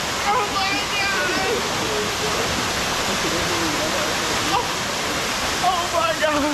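Steady roar of a waterfall reached after a long hike, broadband rushing water filling the whole scene at close range, with excited voices and shouts breaking through in places.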